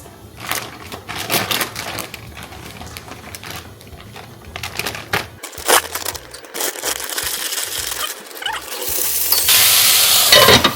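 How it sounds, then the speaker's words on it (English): A bag of broccoli florets opened in a home kitchen where garlic cooks in a pan: crinkly rustling bursts and tearing plastic, then a louder hissing sizzle rising near the end, close by and without talk. "Now I'm gonna open this bag of broccoli florets."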